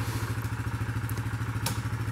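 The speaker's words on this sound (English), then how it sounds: "Our first attempt at bringing things back to the yurt area with the four-wheeler and tractor." A four-wheeler engine idles and chugs with a steady low pulsing throb at a homestead while supplies are hauled, with a few light clatters and knocks over the rhythm.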